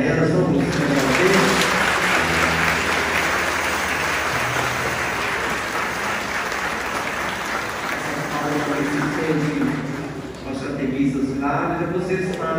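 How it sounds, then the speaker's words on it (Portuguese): Applause from a church congregation after an Easter Mass in Juiz de Fora, Brazil, honouring catechists; steady clapping fills the room with some speech and music-like tones beneath. "Uma salva de palmas para elas."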